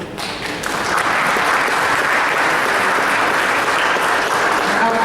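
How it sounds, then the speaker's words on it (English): Audience applause for honorees from School 8 at a board of education meeting, a dense, steady roar of clapping from a sizable room that swells within the first second and holds loud and even for about five seconds with no talk. "please do us the honor of standing and receiving your applause."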